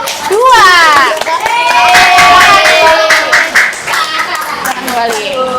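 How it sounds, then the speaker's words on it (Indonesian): Classroom students clap for a group of classmates, loud close hand claps mixed with excited children's shouts and cheering voices. "Tepuk tangan untuk kelompok"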